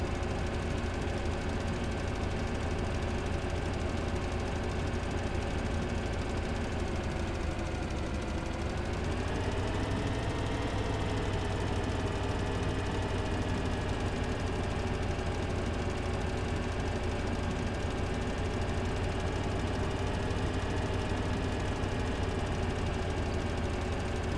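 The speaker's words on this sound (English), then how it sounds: "Well, there's the tractor." A tractor engine in Farming Simulator 2013 drones continuously and labours under load, a steady loud mechanical hum with harmonics that dip and rise in pitch partway through, heard alone without talk.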